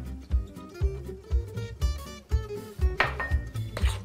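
Tartar sauce ingredients, including mayonnaise, chopped capers, pickles and parsley, are stirred in a bowl with a utensil. It makes a string of close, rhythmic clinks and scrapes against the dish, roughly two per second.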